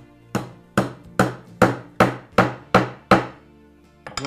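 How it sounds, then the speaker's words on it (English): Eight sharp metallic taps as a metal hammer drives a wooden peg into a hole, struck at a steady, even pace, each ringing briefly before the next, close and fairly loud, with a softer tap at the end. "And I like to tap them in with a metal hammer."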